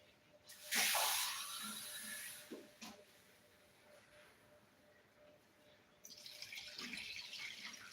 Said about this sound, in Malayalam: തണുത്ത വെള്ളം ഒഴിച്ചു കൊടുത്തേക്കുന്നത്